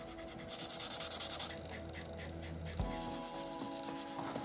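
Blue Winsor & Newton Promarker alcohol markers are blended on paper. Their felt tips make soft, close rubbing strokes, with a quick rhythmic scratching burst early on and steady quiet scraping after it. A faint background hum runs underneath, and no one speaks.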